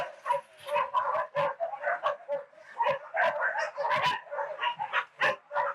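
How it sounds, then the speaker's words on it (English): Two rescued Tosa dogs pulled from a Korean dog meat farm bark repeatedly in a kennel enclosure, loud close barks and yelps in quick irregular bursts with short gaps between them. "you guys are gonna see and hear 2 of the Tosas that we pulled from the farm"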